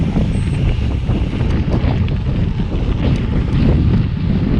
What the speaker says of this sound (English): it's a pretty tough crosswind heading north